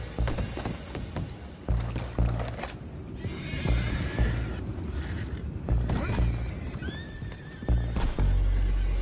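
Horses in Red Dead Redemption 2 whinny and snort amid clopping hooves and creaking wooden mechanisms, with thuds and a busy, close-up bustle.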